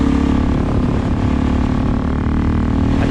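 A Suzuki DRZ 400SM motorcycle fitted with a Delkevic exhaust, its engine droning steadily and loudly at a constant pitch as a low, close rumble with no revving.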